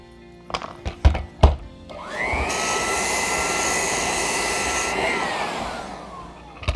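Lagler Flip edger sanding a wood floor: a few sharp knocks as the tool is set down, then the motor spins up into a loud, steady whining roar that holds for several seconds before winding down, close by.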